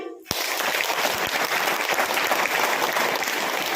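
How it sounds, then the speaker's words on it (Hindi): Sudden applause erupts from a gathered audience at a Hindi spiritual talk, a sharp start followed by sustained, fairly distant clapping. "तो बजाइए ताली"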